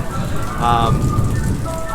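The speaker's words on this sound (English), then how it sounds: "It is pouring down rain" Heavy rain pours down steadily at a Disney theme park during a thunderstorm, a dense continuous hiss that stays loud and close throughout without any break.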